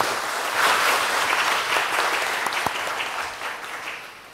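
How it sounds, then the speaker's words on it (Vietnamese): A church congregation applauds the archbishop, a brief burst of clapping that swells quickly and then slowly fades, moderately distant with no voices over it. "Let's give him a big hand, please."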